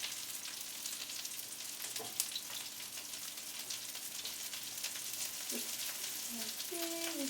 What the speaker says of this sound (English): So you can hear it kind of just sizzling a little bit in the pan.